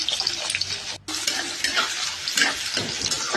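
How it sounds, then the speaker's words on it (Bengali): Onions go into a hot kadai for chicken and start sizzling loudly and continuously up close, with scraping stir sounds and a brief break in the hiss. "এরপর আমি এখানে পেঁয়াজগুলো দিয়ে দেবো"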